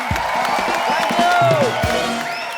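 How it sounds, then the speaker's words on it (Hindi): Studio audience on a Hindi comedy talk show clapping and cheering, with whoops and shouts rising through the applause, loud and close, with voices calling out over it. "एक बार मिस्टर अर्शद वारसी और मरिया के लिए जोरदार तालियां।"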